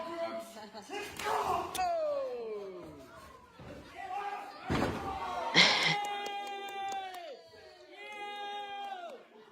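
Wrestling match commentary replay: a wrestler takes a beating in the ring, with heavy slams and thuds cutting sharply through crowd noise and a soundtrack of sweeping, tonal voices and music.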